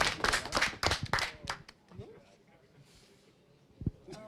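A short burst of clapping from a small group at a StarCraft 2 tournament, mixed with overlapping voices, then dying away into quieter room noise.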